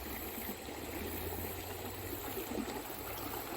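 Water rushing down a rough stretch of a salmon stream, a steady broadband wash of flowing water that holds at an even level throughout, with no voices.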